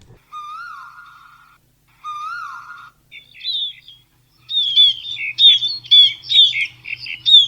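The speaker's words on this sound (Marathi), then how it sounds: "त्यामुळे पक्ष्यांचा मंजूळ आवाज तसेच विविध प्रकारचे पक्षी आपल्याला बघतासुद्धा येतात." Birds sing alone in a quiet setting: two drawn-out whistled calls, then a burst of quick bright chirps and trills, clear and fairly close.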